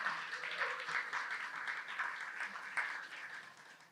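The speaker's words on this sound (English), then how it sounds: "so round of applause for that accomplishment." An audience applauding at a lecture on sled dogs in the Southwest, a modest patter of clapping from a crowd, fairly faint and slightly distant, steady across the moment.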